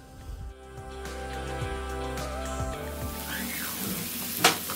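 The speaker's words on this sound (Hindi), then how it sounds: "अब मैं उसमें चिकन को डाल के उसको भी अच्छे तरीके से सौते कर लूँगी।" Chicken sizzles and fries steadily in a pan with paste, close and continuous, with stirring scrapes and a brief clink of utensils near the end.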